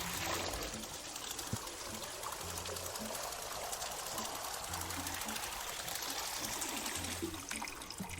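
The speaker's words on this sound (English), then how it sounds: "Alright, let's fill this with water again." Water trickles and pours into a vessel inside the cozy game Wanderstop, a soft continuous stream heard faintly under quiet background music.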